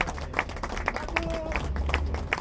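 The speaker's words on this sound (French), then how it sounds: "qu'on s'applaudisse pour avoir tenu cette première nuit de garde" A gathered crowd claps after keeping a first night of watch, a steady patter of hands with a brief high tone partway through and voices mixed in underneath.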